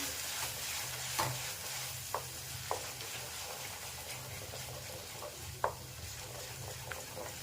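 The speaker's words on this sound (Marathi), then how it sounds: "तीन ते चार मिनिट आपल्याला हे चांगलं तेलामध्ये परतून घ्यायचं आहे" Ground masala paste fries in oil for a spicy patvadi rassa, a soft continuous sizzle with occasional scrapes of stirring, close and quiet, no voices.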